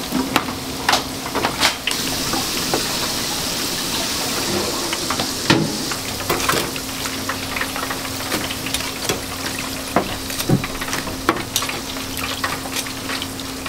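Gyoza dumplings deep-frying in hot oil in a small Chinese diner kitchen, a steady loud sizzle with crackling bursts and a low hum beneath, no talking.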